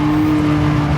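A Porsche 956 race car in a racing video game at the Nürburgring, with a loud, sustained engine note holding a strong steady pitch through a brief one-second burst during a downshift to third gear.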